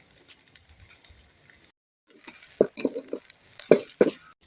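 Chopped drumstick greens are tossed into onions sautéing in a pan, a hiss of frying that cuts out briefly, then returns louder with scraping stirs and clunks of a spatula.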